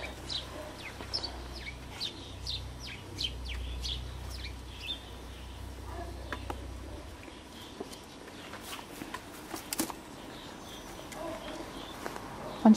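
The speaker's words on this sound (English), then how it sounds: "Seems to be a sparrow fight going on in the background there." Sparrows squabble in the background, faint scattered chirps and sharp tweets coming in bursts, distant and low under a soft ambient hum, with occasional louder peeps.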